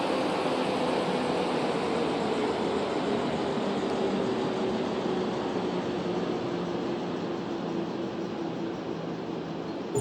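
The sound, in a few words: train approaching in Rail Route video game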